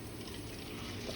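Hot water pouring from a 32-ounce bottle while cleaning an AeroGarden, a faint, short, continuous splashing stream with no voices.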